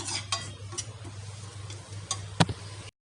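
Onions fry in a pan as they are stirred, with a faint sizzle under a low hum, a few soft scrapes and one sharper clink near the end, close but quiet, with no speech.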